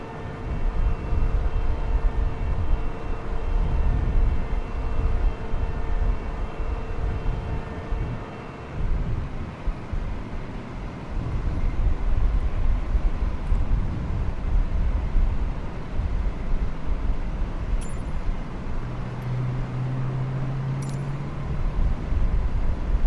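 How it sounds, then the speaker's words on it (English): Aircraft engine spooling up during start in Microsoft Flight Simulator 2020, a steady loud broadband roar with a sustained tonal whine that fades after several seconds, with a few brief clicks later. "Engine start."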